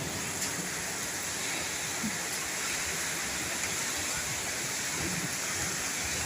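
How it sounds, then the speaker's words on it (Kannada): Heavy rain driven by strong wind in Bengaluru, a dense continuous roaring wash of water and gusts, steady and loud throughout with no clear voices. "ಬಿರುಗಾಳಿ ಸಮೇತ ಮಳೆ"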